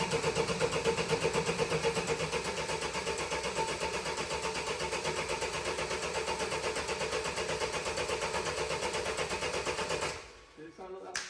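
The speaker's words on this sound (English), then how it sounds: "It's going to run." A Vauxhall Vivaro van engine cranks over repeatedly in a steady rhythmic whirr for about ten seconds without catching, then cuts off.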